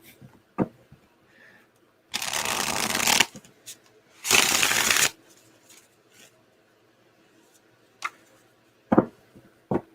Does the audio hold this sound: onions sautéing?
no